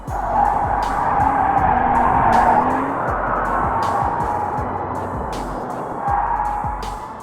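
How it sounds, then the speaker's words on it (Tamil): Speeding car skidding out of control toward a roadside tire shop, a sustained tire screech and engine noise that swells and fades over several seconds, loud and without talk. "அதிவேகத்துல வந்த கார் தன்னோட கட்டுப்பாட்டை இழந்து ரோட்ல இருந்து நிலை தடுமாறி பக்கத்துல இருந்த ஒரு டயர் ஷாப் மேல மோதுறதுக்கு வேகமா வருது"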